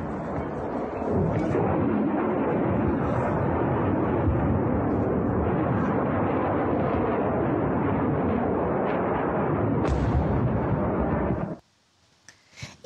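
Explosions from a B-1 Lancer bomber strike on an ammunition depot, a sustained loud roar of blasts and secondary detonations that rolls on for about ten seconds before cutting out abruptly.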